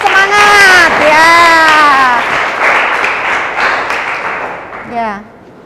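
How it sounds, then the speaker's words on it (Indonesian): Applause for a student group in a school classroom, a broad burst of clapping mixed with children's cheering voices that fades toward the end. "Tepuk tangan dulu untuk kelompok 1, semangat ya."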